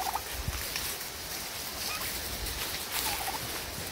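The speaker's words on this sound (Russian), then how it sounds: "Индюки тоже любят гулять." Turkeys out walking on a farm give faint gobbling calls at a distance over steady outdoor rustle and background noise, with no one talking.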